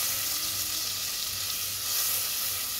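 Butter sizzling steadily in a hot pan as bulgur cooking begins, a continuous bright hiss that stays even and close throughout with no voices.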